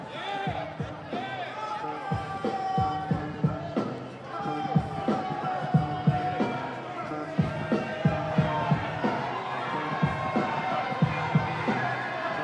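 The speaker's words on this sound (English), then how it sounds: "Listen to the crowd." A crowd in a boxing arena before a Showtime Championship Boxing main event roars and chants with rhythmic thumping stomps or claps, a broadcaster talking over the steady din.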